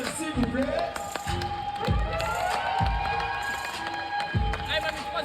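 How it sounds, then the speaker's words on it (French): Crowd at a 3x3 basketball festival in Marseille cheers and claps for the Newington Giants, steady mid-distance applause with periodic heavy footfalls or thumps, under a speaking voice. "Applaudissements pour Newington Giants, s'il vous plaît."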